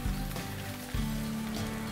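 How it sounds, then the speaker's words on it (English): Steady rain falls in the Andaman Islands, a dense, even hiss of drops that holds at constant loudness throughout, with a low hum beneath. "the sweet symphony of the Andaman rains that bring about a sense of freshness"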